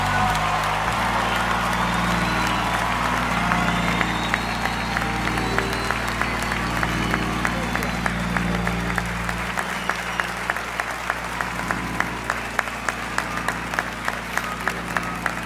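A large live comedy audience applauds and cheers for comedians, with dense continuous clapping and crowd noise throughout, sharper individual claps standing out in the later part.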